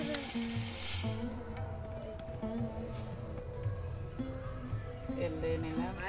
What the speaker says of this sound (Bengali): তেল দিয়ে নিয়েছি পেঁয়াজ দেবো এবারে পেঁয়াজ চারটা ভেজে নিচ্ছি